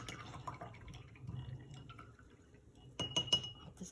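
A paintbrush is rinsed in a glass of water, with soft sloshing and dripping followed by a cluster of bright glassy clinks as the brush taps the rim, close and fairly quiet.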